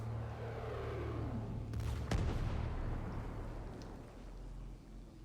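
A couple of heavy video game gunshots crack out together over a dense, steady rumbling backdrop, loud and close, then fade into the ongoing din.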